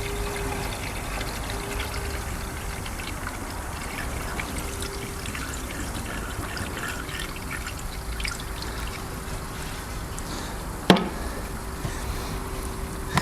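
Coolant trickles and pours steadily into the cooling system of a 2016–2019 Hyundai Ioniq Electric 28kWh while a water pump runs, a continuous low liquid wash broken by one sharp click near the end.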